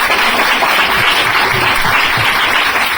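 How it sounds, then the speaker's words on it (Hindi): Loud, sustained applause from an audience at a business motivational event honours the chief guests, a thick unbroken wash of many hands clapping together throughout. "दिल से तालियां, एक जबरदस्त तालियां"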